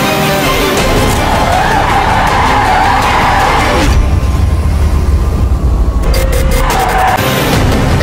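A drifting car's tyres skid and squeal continuously at close range, loud and harsh, with the engine roaring underneath throughout and a brief dip partway through.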